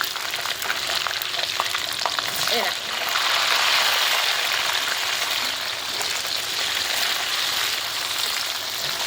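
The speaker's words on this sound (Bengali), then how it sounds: "টমেটো কুচি দিয়ে দিয়েছি। দিয়ে ওটা ভালো করে ভেজে নেবো আমরা" Chopped tomato sizzles and fries in a pan of ginger paste for khichuri, a steady broadband hiss throughout with a brief stirring scrape near the middle, close and fairly loud.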